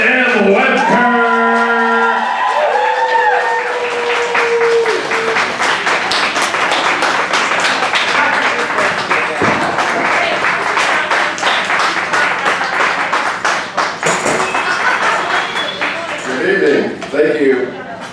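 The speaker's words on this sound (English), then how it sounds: "Please give a round of applause to our first poet tonight, Mr. Stephen M Wuebker!" Audience at a Dayton poetry slam clapping for the opening poet, a steady dense wash of applause running throughout, with cheers and voices over it and a few whoops or moo-like calls early on.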